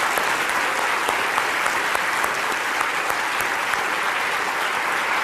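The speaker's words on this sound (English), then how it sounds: "give them a round of applause" Audience applause in a lecture theatre at a Christmas science lecture, a steady dense wash of clapping from many hands that holds at an even loudness through the whole stretch, with no talking over it.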